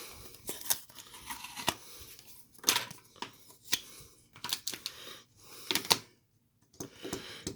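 Adhesive tape being handled while opening trading-card mail: quiet, close tearing and peeling rips, scattered sharp crackles separated by near-silence.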